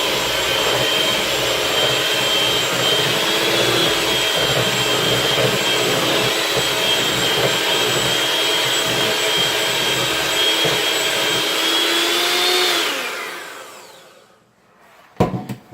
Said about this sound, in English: And one last mix on high.